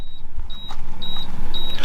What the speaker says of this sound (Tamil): உங்களுக்கு அந்த பீப் சவுண்டு கேட்குதா?